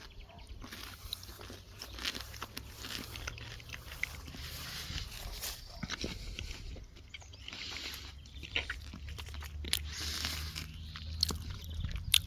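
Someone bites into and chews a juicy, fairly firm peach, producing soft, wet crunches and repeated mouth sounds, close and quiet, with no talking.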